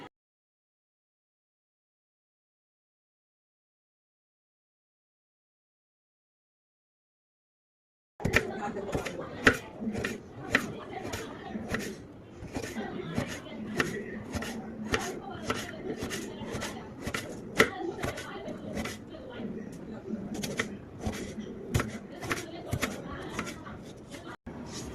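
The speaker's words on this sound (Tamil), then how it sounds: "இந்த மாதிரி நல்லா ஸ்லைஸாக கட் பண்ணி எடுத்துக்கலாம்" A peeled potato sliced with a knife on a board, rapid regular chopping taps close by after a long silent start, continuing steadily to the end.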